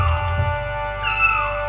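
A human voice imitates kittens meowing, giving a couple of drawn-out, rising and falling meows over a steady tonal hum, close and fairly loud.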